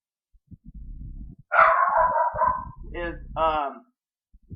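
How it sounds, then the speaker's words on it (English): A dog barks and yips several times up close, while a person speaks quietly in the background before and around the barks. "Please excuse Moffy, he's barking because of whatever reason."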